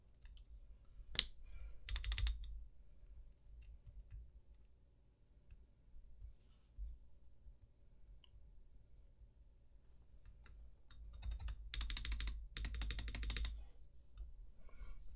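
Keys clacking on a newly built Percent Skog Lite mechanical keyboard, scattered single clicks followed by two quick bursts of typing, close and fairly quiet, with no talking.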